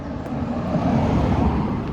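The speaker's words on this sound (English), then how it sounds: "there's a car coming, so it's gonna be loud for a second." A car passes by on a nearby road, a steady broadband rush of tyres and engine that swells slightly over two seconds, fairly close but moderate in level, with no talk over it.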